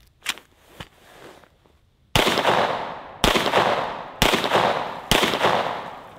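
A handgun fired repeatedly from a full magazine, with four loud sharp shots spaced about a second apart, each trailing off in a long echo, after a few fainter clicks and knocks.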